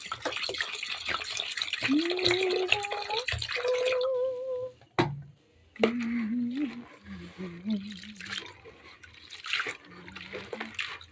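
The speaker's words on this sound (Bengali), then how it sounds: "জল আর একটু লাগবে এই যে জলটা দিয়ে দিচ্ছি" Water poured into a bowl of chana dal (split chickpeas) to soak, a soft trickling and dripping heard close by while someone talks over it.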